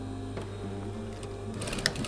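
A sewing machine runs steadily for a couple of seconds, stitching the tie onto the hood seam of a sun cape, with a low mechanical hum and a brighter clatter near the end.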